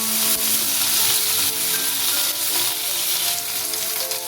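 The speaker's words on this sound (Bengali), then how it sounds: "আলুটা কিছুক্ষণ ভেজে নেওয়ার পর টমেটো কুচি দিয়ে দিচ্ছি" Diced potatoes and chopped tomato fry in oil in a pan for a Bengali potato curry, a loud, steady, close sizzle that runs unbroken throughout with faint occasional clinks and no talk.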